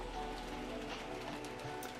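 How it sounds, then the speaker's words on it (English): Wind-driven rain beats steadily outside a mansion in the visual novel game Umineko When They Cry, a soft, continuous patter and hiss, low in level and unbroken. "The window opened, exposing the wind and rain outside the mansion."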